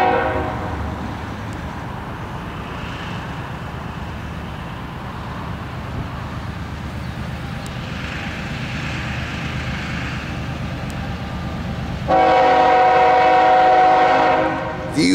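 A southbound CSX loaded coal train rumbles past steadily at close range, its horn sounding loudly near the end over the continuous roar of the passing cars.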